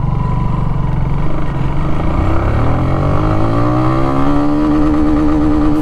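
Kawasaki W175 single-cylinder motorcycle engine pulling hard through the gears, steady loud drone with pitch climbing, dropping at a shift and rising again, recorded close from the rider's position.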